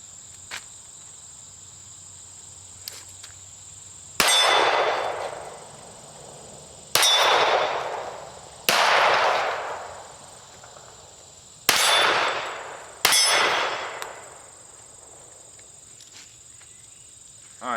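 Five shots from a Ruger SR1911 pistol each ring a steel target with a sharp metallic clang and a long decaying ring. They come in uneven succession over steady outdoor insect chirping.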